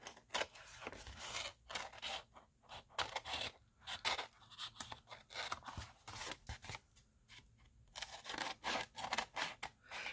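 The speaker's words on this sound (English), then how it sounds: "Trimming off all the pieces that are hanging over the edge." Scissors snip and rasp close up through paper as the overhanging edges of collage Christmas gift tags are trimmed away, in uneven bursts of cutting with short pauses and no talking.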